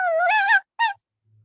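A person vocally imitates a small puppy, producing two short, high, whiny yelps, the first longer and the second brief, heard alone in quiet.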